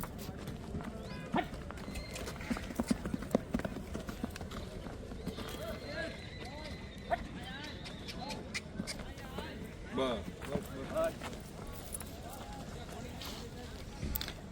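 A filly walks nearby, her hooves making irregular, fairly faint clops underneath a continuous conversation between men outdoors.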